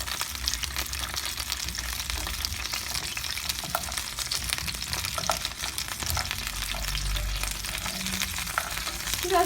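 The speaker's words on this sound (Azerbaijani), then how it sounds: "Şabalıd və abxara turşunu bir qədər qızğın yağda çevirdik." Chestnuts and pickled plums frying in hot oil for an Azerbaijani turshu-govurma plov, giving a steady dense sizzle with stirring scrapes throughout, close and fairly loud, no talk.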